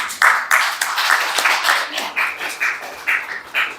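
Church congregation clapping during a Sunday service, a series of short, fairly thin bursts of applause spread across the moment, moderately close, with no talking over it.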